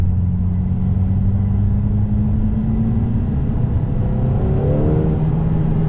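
A Lotus Emira with an automatic gearbox and an I4 engine holds second gear, its engine droning in a steady low rumble whose pitch slowly climbs, heard from inside the car.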